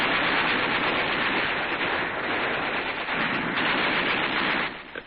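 Sustained, dense machine-gun fire from the WWII Battle of Tarawa rattles loud and continuous for about five seconds, with no pauses, easing slightly at the end.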